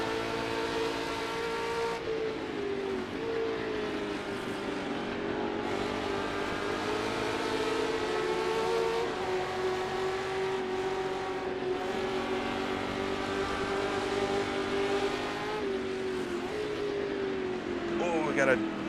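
Historic sports race cars in an Assetto Corsa race, a GT350 among them, hold a steady, loud engine drone with shifting pitch throughout, while a person talks over it.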